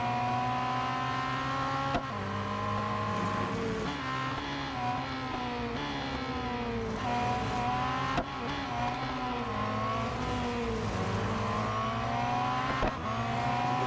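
Race car engines in Real Racing 3 whine continuously at high pitch, rising and falling through gear changes as several cars run close together, loud and steady with no talk.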